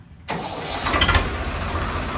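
A 2012 Swaraj 855 tractor engine starts after repair work, catching abruptly from silence and settling into a loud, steady, close diesel rumble.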